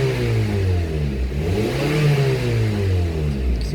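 A 2010 Honda CR-V with a lean-running fuel fault revs while accelerating, engine pitch climbing and falling in a smooth sustained drone close by, alone without voices.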